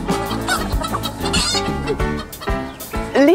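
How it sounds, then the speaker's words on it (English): Hens at an egg farm cluck busily and close by, a dense overlapping chorus of short clucks and squawks with no talk. "Listen to the sound they're making. It's like a little cluck, cluck, cluck, cluck, isn't it?"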